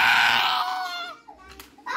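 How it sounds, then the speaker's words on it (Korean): A loud, high screaming cry from the Freddy character in a video game fades over about a second. Brief faint sounds follow it. "저 소리 지르는 거 그 프레디에서 나오는"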